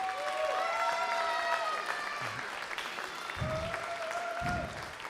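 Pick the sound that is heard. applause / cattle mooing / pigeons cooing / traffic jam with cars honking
applause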